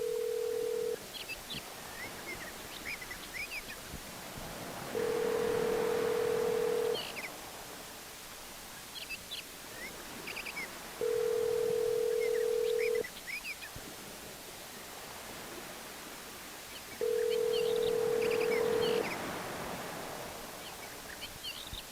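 A telephone call rings through an earpiece before voicemail picks up: three long buzzing ring tones spaced evenly over quiet line hiss.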